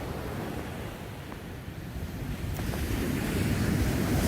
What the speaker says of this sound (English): There's some waves today.